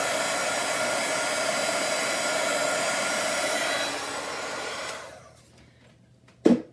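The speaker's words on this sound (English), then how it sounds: "Now I happen to have a heat gun, so I'm going to dry this." A heat gun drying a watercolor jar blows a loud, steady whooshing roar for about five seconds, then winds down and cuts off, followed by a single sharp knock close by.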